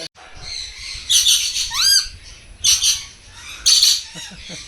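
Parrots and lovebirds at Sky Park bird park in Yercaud squawk loudly and close by in several harsh bursts, with a rising whistle-like call between them and no talk.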